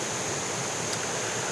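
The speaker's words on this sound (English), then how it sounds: "As you might be able to tell from the sound, I'm right next to the main creek in the area." Water flows in the main creek beside a trail in a national forest, a steady, close rushing wash with no other sounds over it.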